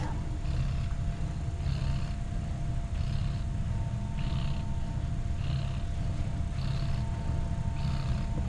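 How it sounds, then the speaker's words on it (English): A feral cat purrs close by in a steady, rhythmic cycle, each breath in and out audible as a low rumble, with no other sounds. "and the purring starts."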